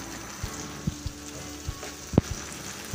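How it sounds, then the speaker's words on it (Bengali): Ground cumin, coriander, chili and turmeric fry in a pan with chopped green chili and four cloves of minced garlic. A soft, steady sizzle is broken by a few sharp stirring clicks and taps. "এটা ভালো করে ভুনতে হবে।"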